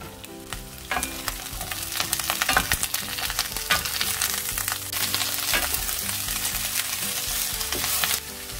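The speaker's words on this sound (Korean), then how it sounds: "팬에 기름을 두르고 당근, 양배추, 양파를 넣고 먼저 볶아주세요." Carrots, cabbage and onion stir-fried in oil in a pan for spicy sundae stir-fry, loud continuous sizzling with repeated scraping and clacking of the spatula, close up and without speech.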